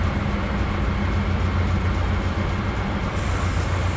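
A freight train in the Open Rails simulator on the Linha do Centro route rumbles steadily with a low, continuous rolling drone and faint high hiss, no talk over it.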